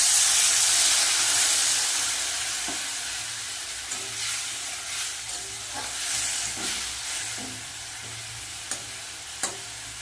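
Water hits potatoes and bitter gourd frying in a pan, setting off a steady loud hiss and sizzle that slowly fades, with a few light stirring clinks and taps near the end and no talk.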